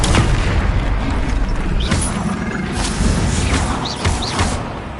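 Booming fire-spell blasts and crackling explosions in the Hogwarts Legacy video game, a loud, dense wash of rumbling impacts with several thudding bursts over a few seconds, no voices heard.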